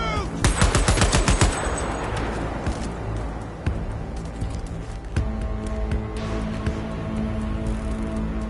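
Rapid bursts of gunfire in Cyberpunk 2077, loud and close at first with dense automatic volleys, then scattered shots and clatter as the fight continues, no voices.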